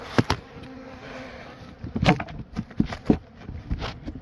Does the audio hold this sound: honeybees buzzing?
yes